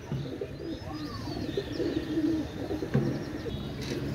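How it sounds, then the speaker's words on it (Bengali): A pair of white golden pigeons coos softly at close range, low rolling calls repeating over faint background bird chirps and a light ambient hum. "এক জোড়া দেখেন, এক জোড়া হোয়াইট গোল্ডেন কবুতর।"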